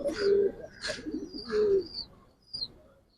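Pigeons of a Giribaz flying breed coo nearby, several soft rolling coos in a row with a few higher chirps between them, clear and close with no talk.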